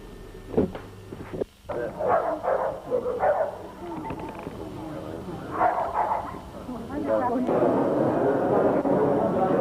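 Sporting dogs bark and yip at intervals amid a busy outdoor crowd at a dog show, with people talking throughout and a steady background hubbub.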